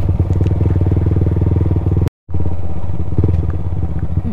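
A motorcycle with a worn rear tire rides a slippery, muddy, porridge-like road near a bridge project, its engine putting out a loud steady chugging with clatter, broken by a brief silent gap.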